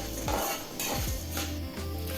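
Whole spices such as peppercorns, cinnamon, cloves and cardamom toss in a dry pan, giving brief close scraping and clinking of a spoon against metal with a light rattle.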